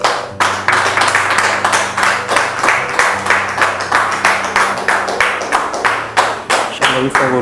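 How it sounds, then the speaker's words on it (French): A church congregation claps in unison to welcome a guest, sharp regular beats at a brisk even tempo repeated many times over a low sustained tone, loud and close. "sous vos applaudissements bien sûr"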